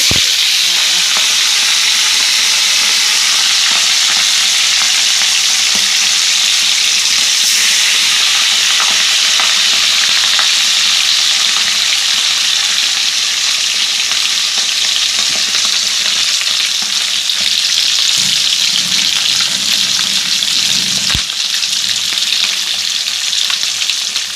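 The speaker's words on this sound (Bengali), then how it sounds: "তেল গরম হয়ে গেছে এবার মাছগুলো আমি ছেড়ে দিচ্ছি তেলের" Fish pieces frying in hot oil, a loud, continuous hissing sizzle heard up close throughout, steady in level with an occasional faint knock and no talking.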